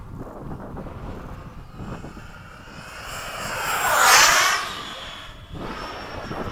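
A Freewing 90mm F-22 model jet makes a pass at sunset, its ducted-fan whine rising in pitch and loudness to a peak near the middle, then falling away with a Doppler drop, over light wind noise.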